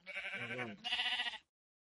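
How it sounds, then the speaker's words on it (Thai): A sheep in the Minecraft video game bleats twice in quick succession, two clear, close nasal calls, then silence. "นี่นะแกะ"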